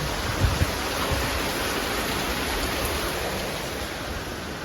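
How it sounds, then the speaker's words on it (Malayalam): Heavy rain pours steadily and densely, a close, unbroken hiss with no voices over it. "മഴയാണ് കേട്ടോ ഭയങ്കര മഴയാ"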